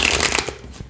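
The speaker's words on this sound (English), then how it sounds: "Absolutely beautifully shuffles." A quick riffle of tarot cards being shuffled up close, a rapid papery flutter that fades out within a second.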